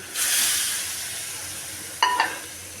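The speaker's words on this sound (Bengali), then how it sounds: "মশলা কষানো হচ্ছে, এখানে আমি ডিম আলু দিয়ে দেব।" Spice paste frying in a pan gives a loud, steady sizzle that starts abruptly and slowly eases off, with a brief clink of a utensil near the end.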